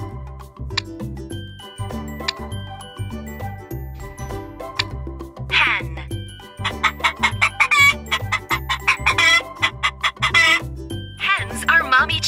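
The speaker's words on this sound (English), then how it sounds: "Roosters are daddy chickens. They are much bigger than hens." Chickens cluck and a rooster crows over a bouncy musical backing, the birds growing busier and louder partway through, with a light jingle.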